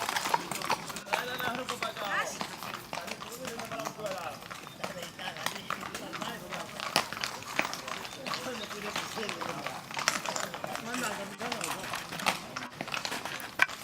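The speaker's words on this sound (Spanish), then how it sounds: "Son muchos caballos, Dios, Muchos, muchos." Many horses clip-clopping together on a road during a Galician horse pilgrimage (romería do cabalo), a dense continuous clatter of hooves with excited voices talking and exclaiming over it throughout.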